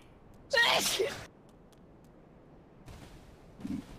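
A single sharp, loud human sneeze bursts out near the start, followed by quiet room noise and faint muffled sounds afterward.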